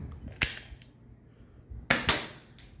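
Two sharp, loud cracks from an AliExpress toy gun firing, about one and a half seconds apart, each with a short snappy tail, over quiet background.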